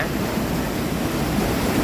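Water pours over a weir at high volume, a dense steady roar of rushing flow that fills the scene without pause or talk.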